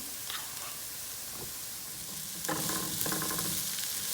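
Potatoes and fenugreek leaves fry in a pan with a steady sizzle that swells louder midway as they are stirred, with faint utensil scrapes and no talking.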